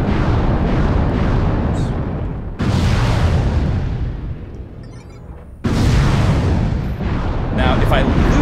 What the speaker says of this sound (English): Let's shoot some missiles at it.